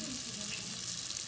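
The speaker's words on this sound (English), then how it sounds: "Stretches and elongates each of the pastries and places them in the hot oil." Steady crackling sizzle of Azerbaijani potato borek pastries frying in hot oil, a dense continuous hiss with no voices.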